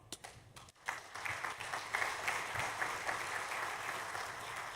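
Applause from an audience at the opening of a South African sustainable infrastructure symposium starts after a brief quiet moment, then continues as a faint, distant and steady patter of clapping.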